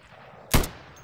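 A single sharp gunshot from the Insurgency video game after switching fire mode, one loud crack with a quick decay against a quiet background.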